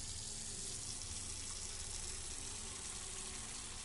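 Water steadily pouring and filling a container in Autopsy Simulator, a continuous even rushing splash that stays loud and close throughout without a break.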